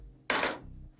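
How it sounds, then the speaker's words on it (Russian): A knife cuts whole tomatoes into quarters on a board while cooking, making one short, close, crisp chopping burst that lasts about a third of a second. "Тем временем я быстро нарежу томаты."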